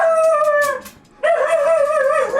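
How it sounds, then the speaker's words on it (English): A dog in a video game howls in two long wavering tones separated by a short gap, loud and close with no voices over it. "Somebody kill that dog!"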